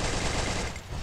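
Rapid gunfire exchange in a competitive first-person shooter video game, a dense continuous burst of loud shots with no pauses, filling the whole short moment.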